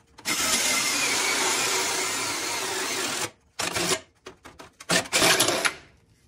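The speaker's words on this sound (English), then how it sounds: "Make sure you got a really good firm grasp of the drill." A power drill bores a hole in plastic for an indoor hydroponic system, a steady high whine for about three seconds, then stops and starts in several short bursts.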